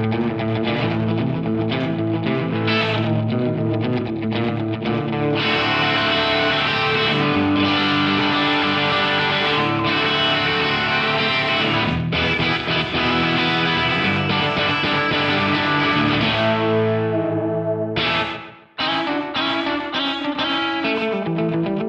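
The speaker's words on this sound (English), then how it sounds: "Dedicated slapback mode in here, so you can really fine tune the echoes with the time knob." Guitar played through a Source Audio Nemesis ADT delay pedal in its slapback mode, short dense echoes repeating each note, loud and continuous throughout with a brief dropout near the end.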